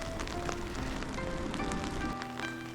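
Rain falls steadily early in the morning at Kichijoji, a Shikoku pilgrimage temple, a soft, even patter and hiss that runs the whole time without pause.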